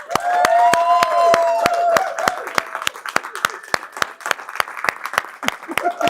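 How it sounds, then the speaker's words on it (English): An audience at a financial bootcamp event claps in sustained applause, loud and dense at first and thinning into sparser individual claps, with a voice speaking over it. "let's give her a warm round of applause."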